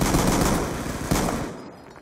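Loud, dense burst of gunfire from the KSG shotgun in the video game Black Ops 2 gun game mode, a continuous heavy roar with a second blast midway, then fading out, with no talking.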